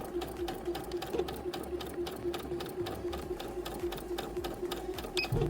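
Lion 9300S home sewing machine running steadily while reverse stitching, a close, continuous motor whir with a fast needle rhythm and no talk.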